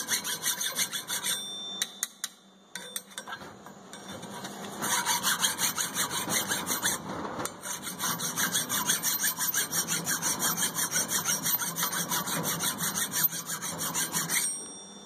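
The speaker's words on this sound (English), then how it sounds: "I'm just leaning against that back edge there, keeping the file straight as I can." A hand file scrapes rust off a ball joint part from a 2010 Ford F250, with long steady rasping strokes in a rapid rhythm, close and loud after a few brief pauses.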